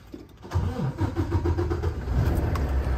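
A 2018 Volvo VNL630 tank-hauler truck with a D13 engine and high mileage cranks over and starts, its low mid-pitched rumble rising quickly then settling into a steady, loud idle close by.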